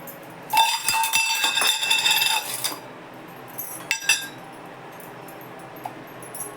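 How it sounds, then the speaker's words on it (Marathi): Salt and chilli pounded in a metal mortar while cooking kadhi: about two seconds of loud, ringing metallic clinks and knocks, then a few softer isolated taps against a quiet kitchen background. "मीठ मिरची कुटून घेते"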